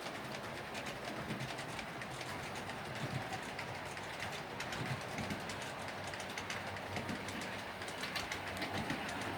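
Model trains run along a layout track with a quiet, continuous mechanical whir and light rhythmic clicking, fairly faint, with no voices.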